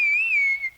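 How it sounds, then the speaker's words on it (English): A single clear whistle in a radio comedy, rising slightly then gliding down, bright and close, lasting under a second with no talk over it. "Whistle for that bus."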